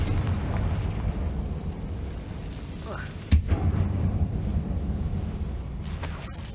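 Confringo spell cast in Hogwarts Legacy inside a mine tomb, a sharp explosive crack midway over a rumbling game backdrop, then a fiery roar that trails off, with a voice speaking before the blast.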